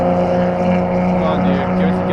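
A Mazda RX7 rotary engine drones steadily on a racetrack, loud and close, with a strong sustained tone that holds without pause under continuous road and wind noise.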